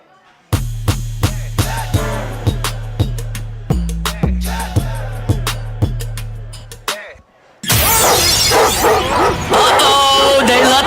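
A dog barking sound effect: a regular series of sharp barks and yips over a steady low bed of music, ending in a few seconds of silence before louder announcer talk begins.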